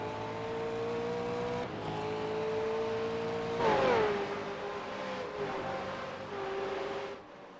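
A V8 race car in a sim racing game at Circuit Gilles Villeneuve, its engine note steady and loud, then easing off and dropping in pitch before climbing again under power, continuous and close with no voices.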